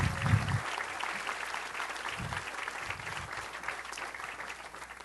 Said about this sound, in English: let us all take a moment to give CSULB and all its amazing faculty and staff here a big round of applause